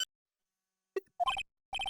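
A phone ringtone from the Phoenix Wright: Ace Attorney – Justice for All video game sounds as a few short electronic chirps and beeps in quick bursts, with pauses between them and no talking.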